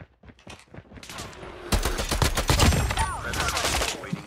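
Rapid bursts of gunfire from the mobile game Call of Duty Mobile, with a TEC-9 among the weapons, crackle in dense volleys that grow louder and keep going almost without a break.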